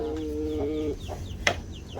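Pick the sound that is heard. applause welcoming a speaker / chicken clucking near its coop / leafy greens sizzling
chicken clucking near its coop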